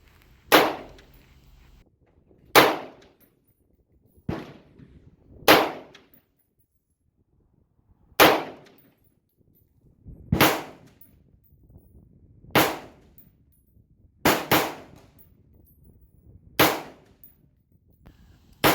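Del Ton AR-15 rifle firing single shots, about ten sharp cracks spaced a second or two apart, each with a short ringing decay, loud and close with no talk.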